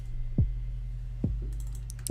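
Three sharp mechanical key clicks from a MIDI keyboard, spaced roughly evenly and fairly close, sounding over a low steady hum with a few faint high ticks.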